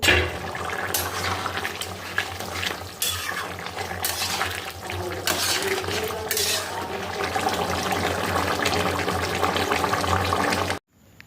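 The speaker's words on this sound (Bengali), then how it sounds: "পরিমাণ মতো জল দিয়ে দিলাম" Water is poured into a pan of jackfruit curry during cooking, a steady rushing, splashing pour that runs for about ten seconds at close range before stopping abruptly.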